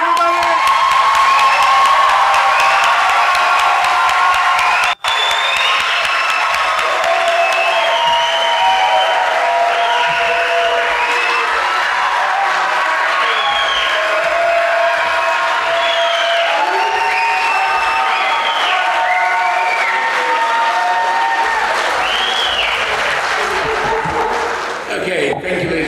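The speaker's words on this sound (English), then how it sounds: "Let's give a clap to all the graduates," A graduation ceremony crowd at Schellhammer Business School in 2022 applauds the graduates with sustained, loud clapping, mixed with cheers, whoops and shouted voices throughout nearly half a minute.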